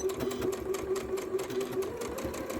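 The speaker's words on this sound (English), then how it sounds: "all I'm going to do is go ahead and sew this seam" A sewing machine stitches a quilt seam at a steady, fast rhythmic whir, close and loud, with no talking over it.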